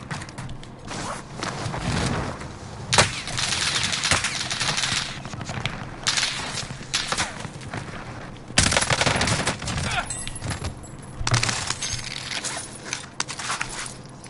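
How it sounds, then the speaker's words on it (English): Rapid automatic gunfire from an SMG in a shooter video game rattles in dense, loud bursts that nearly fill the scene as the player takes fire, with sharper close shots standing out. "I was getting shot at by somebody."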